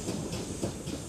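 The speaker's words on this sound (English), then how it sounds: "Train arriving. Here it comes." A train pulls into a railway station with a steady rumbling roar and a faint hiss, heard close and unbroken for a brief moment.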